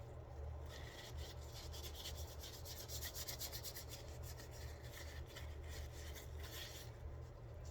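Soft repeated rubbing of a cloth wiping down a gun slide to prep it for hydrodipping, working into the nooks and crannies in close, quiet, rhythmic strokes over a low steady hum.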